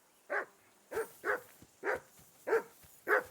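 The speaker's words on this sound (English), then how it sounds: "Jesus, Henry, that barking's driving me nuts. Can you get your dog to shut its beak?" A dog in Kingdom Come: Deliverance 2 barks six times in a steady, evenly spaced series, each bark sharp and close, alone with no talk over it.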